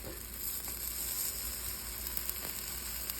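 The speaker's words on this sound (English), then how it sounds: "I'm gonna make her a mini pancake." A mini pancake fries in a pan with a steady, soft sizzle throughout, close and continuous with no talking.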